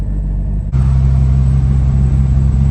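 A K20-swapped Honda Civic EF runs under load while driving, a loud, steady engine drone heard from inside the cabin. It thickens into a heavier rumble partway through.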